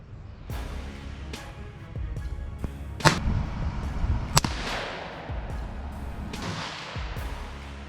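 Rossi .17 HMR rifle firing at a 50-yard target outdoors: several sharp, loud cracks spaced irregularly over a few seconds, each followed by a short echoing tail, with no talking.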